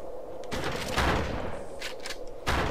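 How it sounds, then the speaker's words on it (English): Heavy gunfire in the Xbox shooter XIII, with dense fusillades of shots bursting in loud waves and a light breeze sound underneath. "A little bit of breeze and loads of gunfire."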